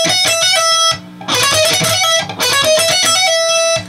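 Distorted electric guitar plays a fast solo lick, a run of quick picked notes with hammer-ons and pull-offs in two loud phrases and a brief gap between them.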